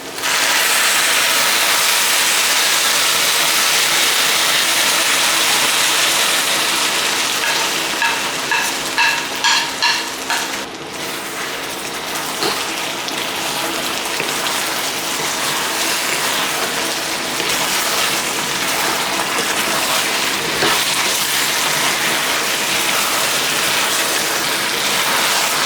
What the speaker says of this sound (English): Now we gotta pour in the sweet and sour sauce.